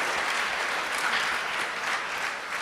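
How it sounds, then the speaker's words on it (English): A Sunday program audience gives a round of applause, a steady, full wash of many hands clapping throughout, even and continuous. "Can we give a big round of applause for His Grace Rupanuga Prabhu"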